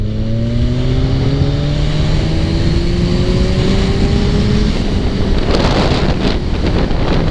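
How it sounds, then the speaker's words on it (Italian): A 2017 Kawasaki Z1000SX motorcycle's exhaust climbs in pitch as it accelerates, a steady rising engine drone heavily buffeted by loud wind noise and road roar, heard from on board. "C'è una bella voce di scarico"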